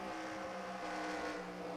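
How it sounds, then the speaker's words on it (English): Race car engine during a motorsport race broadcast, a continuous droning mechanical whine with steady harmonics, held at a fairly even level with no talk over it. "Listen to that engine singing"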